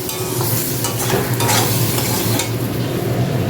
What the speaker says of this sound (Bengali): তিনটে কাঁচা লঙ্কা দিয়েছি দিয়ে কষিয়ে নিই